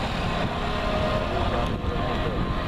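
A V-22 Osprey tiltrotor in aircraft mode runs low past the crowd at an airshow, a broad steady roar filling the air at constant loudness.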